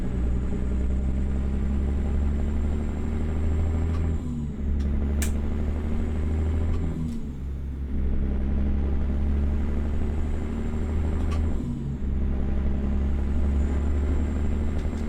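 A Kenworth W900 truck engine in American Truck Simulator, hauling a Howard side tipper triple, rumbles low and heavy at steady revs. It dips briefly at a few gear shifts and stays loud and continuous, with no voices.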